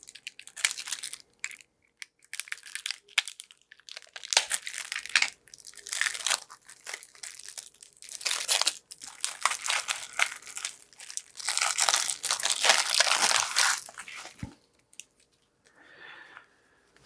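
Crinkly plastic wrapping torn and crumpled in bursts as a set of Lawyer Up board game cards is unwrapped and pulled out, close and fairly loud, with short quiet gaps between handlings.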